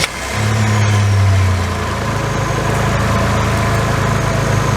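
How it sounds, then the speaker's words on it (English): A 1988 Acura Legend coupe engine idles freshly after an oil and filter change, starting with a brief rev and then settling into a steady, smooth, loud hum close by. "You heard this noise? That sounds good. Healthy, new engine."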